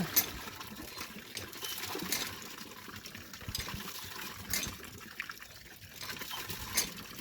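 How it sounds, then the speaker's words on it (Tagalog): Water is poured while someone bathes at home, a faint, continuous splashing and trickling with a few louder gushes, heard alone and not very close. "Bilisan mo, mag-buhos ka na"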